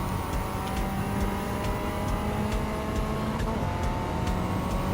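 Race car engine in Gran Turismo 7 climbing a hill in the final sector at a French circuit, a steady, loud droning engine note with faint tonal whine and occasional clicks, no talk over it.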